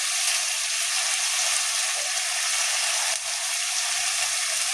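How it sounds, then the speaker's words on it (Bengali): Chicken being sautéed with garam masala and chicken masala in a pan, a steady broad frying sizzle with soft clinks, continuous and fairly close, no talking. "আবার একটু ভালো কষিয়ে নেব।"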